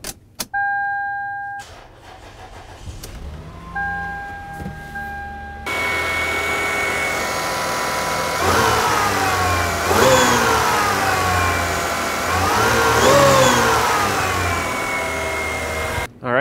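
A 1999-2003 Toyota Solara, just fitted with a new timing belt and water pump, clicks and chimes before its engine cranks, catches and settles into a steady idle, then revs up and down several times, close and loud.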